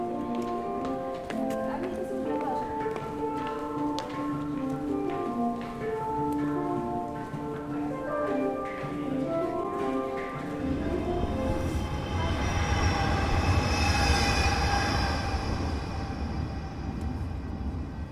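A Slovak tram rolling across a bridge in Bratislava, its steady tonal whine and wheel hum first ringing in clear pitched steps, then giving way to a broad, louder rumble as it passes close.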